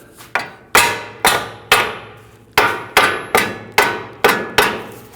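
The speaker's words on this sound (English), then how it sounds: "use my hammer and I'm just going to knock the ball joint just back and forth a little bit" Hammer blows knock a front lower ball joint on a 2009-2017 Volvo XC60 back and forth, about nine sharp metallic strikes at an uneven, roughly half-second to one-second rhythm, close and loud, each ringing briefly, with no talking.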